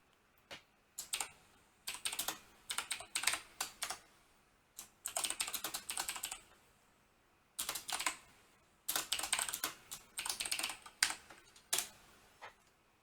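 Rapid bursts of computer keyboard typing come in several clusters separated by short pauses, the keystrokes close and crisp with no talking.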